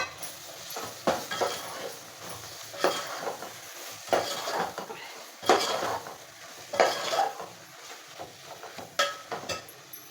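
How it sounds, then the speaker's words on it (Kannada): Chopped tomatoes frying in hot spiced oil with coriander powder for crab masala, a spoon scraping and stirring the pan in repeated bursts over a soft sizzle, close and fairly loud with no talking. "ನಾನು ಟೊಮೊಟೊ ಕಟ್ ಮಾಡಿ ಇಟ್ಟಿದ್ನಲ್ಲ ಟೊಮೊಟೊ ಹಾಕ್ತಾಯಿದ್ದೀನಿ"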